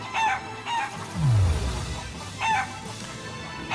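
Chickens in Shenmue III cluck and crow in repeated bursts, fairly loud and close, with a low descending electronic tone sweeping through the middle.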